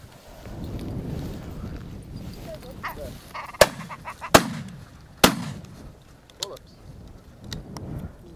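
Shotgun shots fired at flying geese during an Orkney goose flight, three sharp distant reports in quick succession, followed by a fainter fourth, with breezy outdoor background and voices around.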